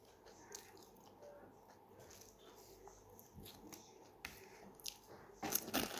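Crunchy pani puri being bitten and chewed close to the mic, a run of soft crackling crunches that grow louder and denser toward the end, with no talking.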